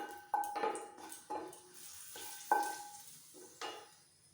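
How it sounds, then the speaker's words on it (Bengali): Two dried red chillies frying in a spoonful of soybean oil for tempering, faint crackles with a handful of short spoon-and-pan scrapes at irregular intervals, quiet and without speech. "লঙ্কাটাকে আর একটু ভেজে নেব"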